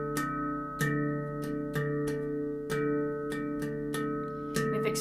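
Metallic handpan notes ring out in a 2 against 3 polyrhythm, two interlocking pulses of struck tones sustaining over a steady resonant drone, played solo and close with no voices.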